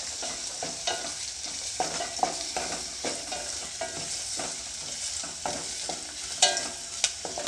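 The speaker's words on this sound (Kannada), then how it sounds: "ಈರುಳ್ಳಿನ ಒಂದು ಸ್ವಲ್ಪ ಫ್ರೈ ಮಾಡ್ಕೊಳ್ತೀನಿ" Onions frying in a pan for a beetroot palya, with a continuous close sizzle and regular scraping strokes from stirring throughout.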